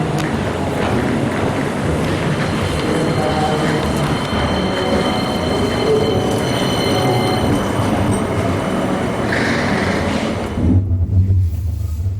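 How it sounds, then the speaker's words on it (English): A Birmingham tram runs along its rails on the Edgbaston Village extension, giving a steady, loud rolling rumble with faint wheel squeal throughout, then a brief drop as it eases near the end. "Catch one of these trams down to the newest extension, Edgbaston Village."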